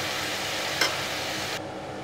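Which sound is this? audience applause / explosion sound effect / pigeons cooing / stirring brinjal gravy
stirring brinjal gravy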